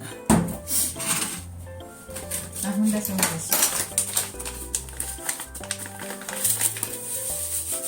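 Scallion and radish mochi batter with potato starch being mixed in a bowl, irregular clinks and scrapes of utensil against the bowl with clattering knocks throughout, close and moderately loud.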